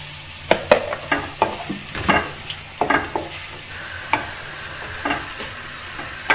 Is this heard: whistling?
no